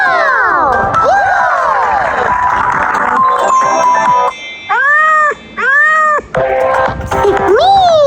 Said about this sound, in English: The cat goes, meow!